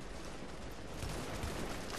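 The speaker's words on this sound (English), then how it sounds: "He's shooting at me?" Enemy gunfire in The Division, a faint, distant crackle of shots spread over a noisy background without distinct separate reports.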